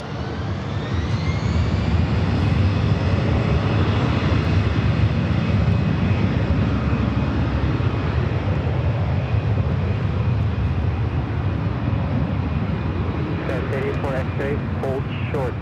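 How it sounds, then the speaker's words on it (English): A SkyWest Embraer E175 jet airliner arrives at Los Angeles airport with a loud, steady engine roar and a whining tone that rises early on, sustained throughout, with faint background voices. "This arrival is Alaska SkyWest 3411 coming in from San Francisco on the E175 SkyWest 884 X-ray."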